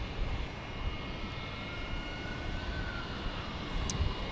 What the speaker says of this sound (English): Private jet and private jet.